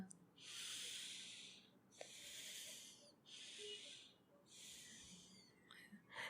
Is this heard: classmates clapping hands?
no